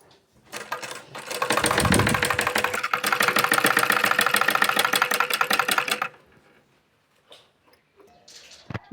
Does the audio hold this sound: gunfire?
no